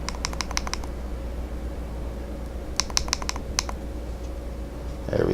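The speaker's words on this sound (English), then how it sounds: "turn on and off is 5 clicks" A VooPoo Mojo vape mod's fire button is pressed in a quick run of five sharp clicks, then after a pause another fast burst of five, close and crisp over a steady low hum.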